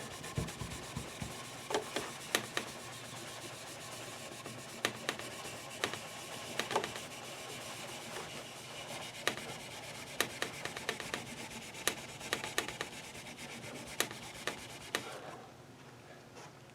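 Steady close-up rubbing and scrubbing of a cloth worked back and forth over a guitar fretboard to clean and lubricate it, a continuous soft friction with frequent light clicks and taps, alone without talk.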